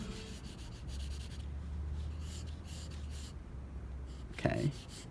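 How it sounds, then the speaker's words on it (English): Medium charcoal pencil shading on sketchbook paper, soft close scratchy strokes in short repeated bursts over a low hum, with a brief louder scrape near the end and no talk. "charcoal pencil."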